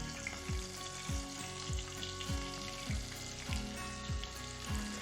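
Shrimp fry in hot oil in a pan, giving a steady close sizzle with no talking. A utensil scrapes or taps the pan at a regular pace, about every half second, throughout.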